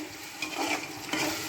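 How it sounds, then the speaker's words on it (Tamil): Tomatoes and onions are sautéed into a gravy in a pan for chicken biryani, with a soft steady sizzle and a few brief scraping stirs of the spoon, close and moderately quiet, with no talking. "தக்காளி ஆட் பண்ணி இதையும் சேர்த்து நல்லா அந்த வெங்காயம் வதங்குற மாரி கிரேவியாக நல்லா வதக்கணும்"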